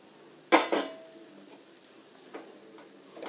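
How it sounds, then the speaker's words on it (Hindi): Sesame seeds are stirred into a pan while making sesame and peanut laddoos, with a sharp metallic clank of the spoon against the pan followed by softer scrapes and light taps, close and fairly quiet. "इसी में हम देखिए तिल को भी मिला देते हैं"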